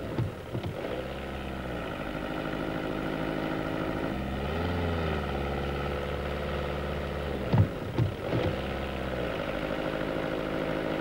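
A Volkswagen Golf Ecomatic's 1.9-liter diesel engine with catalytic converter hums steadily with a low drone, its pitch rising and falling in a few smooth sweeps as it revs, fairly quiet throughout.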